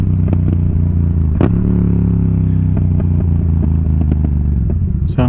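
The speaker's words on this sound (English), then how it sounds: "This exhaust does, it will have like a little crackles." A 2021 Yamaha MT-07 motorcycle with an aftermarket exhaust and a mismatched tune idles loudly and close, its steady rumble broken by scattered sharp pops and crackles.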